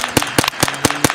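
A cheap semi-automatic .22 rifle cracks off a quick series of sharp, close shots, about five snaps in just over a second, with no one speaking over them.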